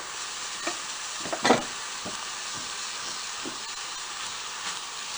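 Scalloped potatoes and tuna sizzle steadily in a pan on a stovetop, with several soft scraping stirs and one louder clatter of the spoon near the start, all close and without talk.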